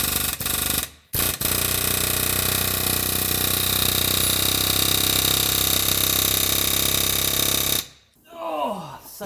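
Continuous rapid mechanical pounding on a Subaru Legacy suspension ball joint, with a threaded stud, loud and close and running steadily for several seconds after a brief start-stop, then cutting out.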